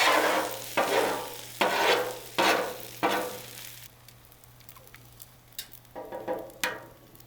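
Kimchi fried rice and an egg sizzling on a LoCo griddle outdoors, with several loud bursts of scraping and stirring over a steady fry, then a quieter stretch of faint crackle and a few small clinks.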